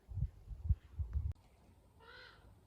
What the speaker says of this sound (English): Do you hear that guy? That's the raven